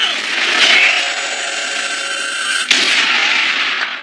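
Gunfire in an anime battle scene, guards shooting at intruders: a loud, dense, continuous roar of rapid fire with a sharp crack partway through, no distinct single shots and no talking.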